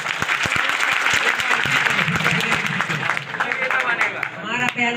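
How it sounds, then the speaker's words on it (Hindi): A group claps at a children's rights gathering, a dense burst of clapping that fades after a few seconds as a voice begins speaking over the tail. "ताली बजाओ जोर"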